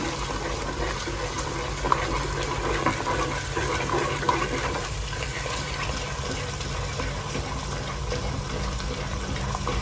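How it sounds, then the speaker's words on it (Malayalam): Water poured into a pan of half a kilo of fish curry with ground spice paste, a steady low gushing wash of liquid, fairly quiet, with no talk. "കുറച്ച് വെള്ളം ഒഴിച്ചു കൊടുക്കുന്നു ഇതിലോട്ടെ"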